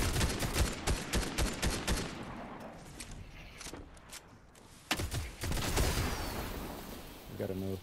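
Gunfire rattles in the video game Fortnite as a player shoots a tree down: rapid bursts of shots in the first few seconds, then quieter rumbling and a few later cracks, fairly faint overall.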